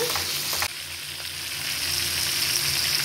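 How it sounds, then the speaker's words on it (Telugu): Fish fries in hot oil over a medium flame, a dense, even sizzle that runs throughout, with a sharp crackle near the start before it settles into a steady hiss. "కొంచెం మీడియం ఫ్లేమ్లో పెట్టుకొని వేయించుకుంటే ఇది ఫిష్ బాగా వేగిపోద్ది"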